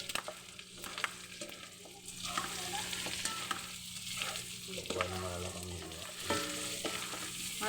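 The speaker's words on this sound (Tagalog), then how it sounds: "Pag halu-haluin yung bawang at sibuyas. Tsaka yung pork." Garlic, onion and pork are stirred as they fry in a pan, with a continuous sizzle under repeated scrapes and clatters of a utensil.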